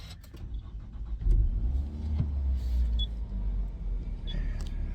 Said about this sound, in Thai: ขออนุญาตเหยียบเบรกสตาร์ทเครื่องกันก่อนนะครับ